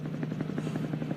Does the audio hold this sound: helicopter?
yes